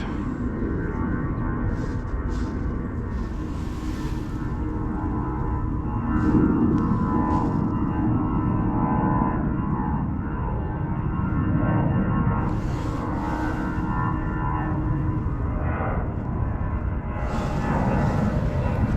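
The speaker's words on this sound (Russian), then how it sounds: "Самолеты, да, тут взлетают постоянно. Взлет." A jet airplane takes off near Adler airport in Sochi, its engine a steady loud roar that holds throughout the clip. A few brief higher noises rise above it.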